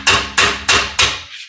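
Four sharp, evenly spaced hammer blows ring out on the sheet-metal cab of a 1941 Ford 2-ton truck, each strike close and loud with a short decaying ring, no talk.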